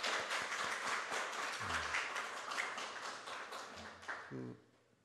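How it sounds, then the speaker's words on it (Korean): A congregation at a Korean church devotional service gives a round of applause, with many hands clapping in a loose, scattered rhythm that thins out and fades near the end. A few low voiced sounds come through briefly. "박수 한번 주시죠"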